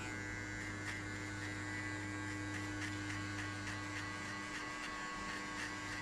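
Electric hair clippers buzz steadily and close while cutting hair for a burst fade, a constant hum with faint rhythmic texture as the blade passes, alone without talk.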